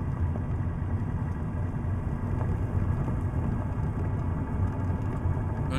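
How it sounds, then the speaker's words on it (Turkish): A steady low rumble of tyres and engine from a truck driving on the road in Euro Truck Simulator 2 holds at an even level throughout, with no talking. "Yol sesi çok geldi."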